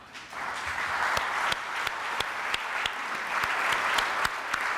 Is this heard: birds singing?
no